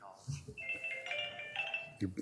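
A phone rings from inside someone's pocket during a county commission meeting, a muffled repeating electronic tone heard under nearby talking.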